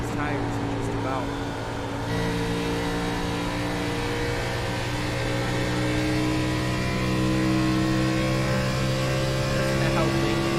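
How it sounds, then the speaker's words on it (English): Onboard engine of a Truck Series race truck at Charlotte Motor Speedway, a steady loud drone with the throttle held and small pitch shifts. A commentator talks over it throughout. "Listen to how late it is before he can drop a little throttle."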